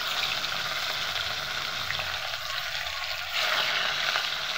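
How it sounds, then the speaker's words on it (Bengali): Fish frying in salted hot oil in a wok, a continuous close sizzle and bubbling hiss that swells louder near the end. "মাছটাকে আমি ভেজে নেবো"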